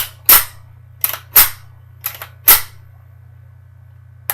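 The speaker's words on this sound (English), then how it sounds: "Put the suppressor on it, yes, it'll be a little bit quieter, but you still have to deal with the noise of the action." Three sharp, muffled suppressed rifle shots, each followed by a quick mechanical clack of the action, over a low steady hum.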